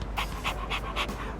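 Koromaru, a dog in the video game Persona 3 Reload, pants in quick, steady breaths, about five rhythmic huffs close up with no talking.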